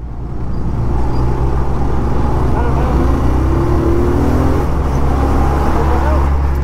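A vehicle overtakes on a road on a trip toward Farakka Bridge, under a loud, steady rumble of engine and road noise that lasts throughout, with a rising engine whine in the middle as it passes.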